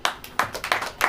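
A church congregation clapping at a Hindi sermon, several sharp rhythmic hand claps in quick succession, fairly close and moderately loud, with no talking over them.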